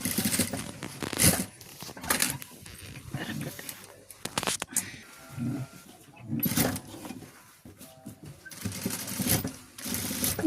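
A sewing machine stitches an embroidered blouse in several short, rattling bursts. A person talks between and over the runs.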